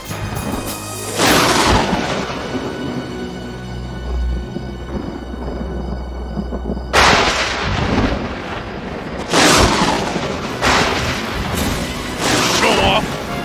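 Deep rumbling thunder booms roll in repeatedly, several heavy crashes spaced a few seconds apart, loud and close like a storm overhead, in an animated film.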